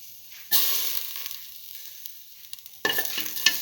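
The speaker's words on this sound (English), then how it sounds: "keep on sauteing. Put in the green chili," Green chili hits a hot pan and sizzles loudly, then is stirred. One sharp burst of frying fades, and a second burst of sizzling and stirring follows near the end.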